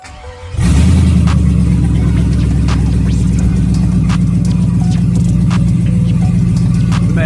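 A stock 6.0 Chevrolet Silverado truck engine fires up after a brief crank, then settles into a loud, steady, throbbing idle close by.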